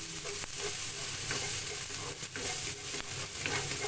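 Garlic and ginger sauté in hot oil in a pan, a steady close-up sizzle and crackle with occasional soft stirring scrapes and no speech.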